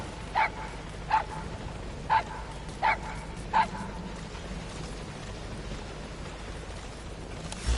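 A dog in Metal Gear Solid V: The Phantom Pain gives five short, fairly faint barks spaced irregularly over the first few seconds, set against steady rain-like game ambience that continues after the barking stops.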